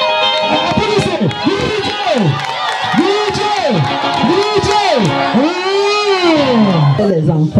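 A church congregation at a fundraising service for a new temple in Foyemtcha cheers loudly, with rising and falling ululating calls over a dense, continuous crowd roar.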